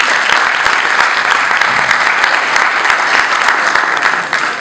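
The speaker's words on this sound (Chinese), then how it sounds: "我想我们应该鼓励的掌声，可以鼓励自己" An audience at a Chinese-language school debate final applauds, a dense, steady burst of clapping from many hands, loud and close throughout.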